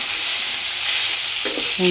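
Spice paste for a Bengali red amaranth and fish dish fries in a pan with a dense, continuous sizzle. Near the end there are a couple of short clinks or scrapes from the stirring utensil. There is no speech.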